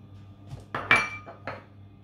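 A metal saucepan clanks and clinks a few times nearby, with a sharp ringing knock in the middle, as it is set down and moved in a kitchen.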